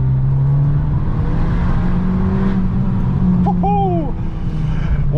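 An Abarth 695 70th Anniversario with a Monza exhaust drives along, its engine a steady loud drone with a rising note near the end, heard from inside the car.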